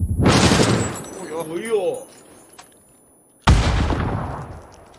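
Video game gunfire bursts loud and close, one long crackling volley at the start and another after a pause, with a voice exclaiming between them.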